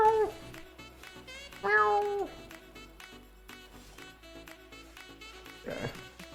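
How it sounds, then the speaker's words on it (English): A cat meows loudly twice in quick succession, each call drawn out and tonal, then a softer, rougher meow follows over a low background of game music. "It's a kitty."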